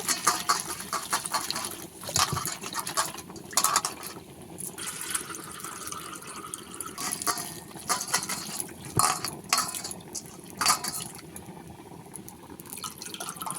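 Drumstick flowers swished and rinsed in a bowl of water, with continuous splashing, dripping and trickling close by, the water sloshing in irregular bursts.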